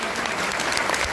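An audience claps loudly and continuously in a burst of applause welcoming a minister at a stage event.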